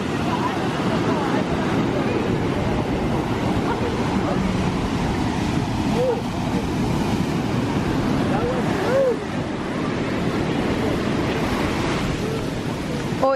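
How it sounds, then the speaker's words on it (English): Pacific Ocean waves rolling in at night by Santa Monica Pier, a steady, loud rushing surf wash with wind buffeting the microphone, and brief excited voices breaking in now and then. "Wow, look at those waves coming in."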